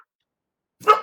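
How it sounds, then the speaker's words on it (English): A pet dog gives one short, sharp bark at the very end, indoors, after near silence. "That's my dog barking."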